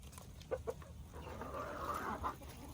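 Chickens cluck softly at a farm coop, a few short clucks followed by a rising, drawn-out hen call, fairly close and without talk.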